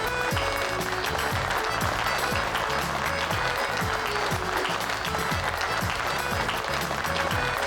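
Steady, loud clapping from a group of people runs through the whole stretch without a break, with faint music-like tones underneath in a family scene from a dubbed drama series.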